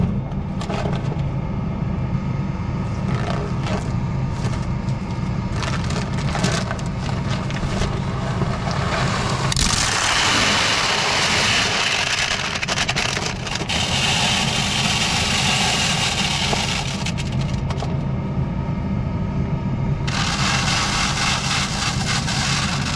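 A farm tractor's engine idles steadily during corn planting, a continuous loud drone that runs through the whole stretch with no talking.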